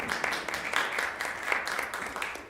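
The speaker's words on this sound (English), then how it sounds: "An applause." Audience applause at a symposium session, a steady patter of clapping from a seated crowd in a hall, moderately loud and continuous with no talk.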